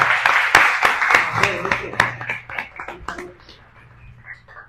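A small audience at a marketing and sales talk applauds in short, distinct claps that thin out and fade toward the end, with some voices mixed in.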